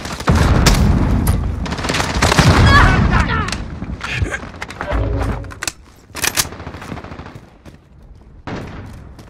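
A grenade explodes amid a Call of Duty Modern Warfare firefight, one of several loud booms mixed with bursts of close gunfire, dropping into quieter gaps and scattered further shots.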